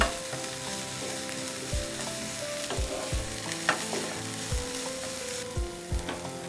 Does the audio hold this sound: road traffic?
no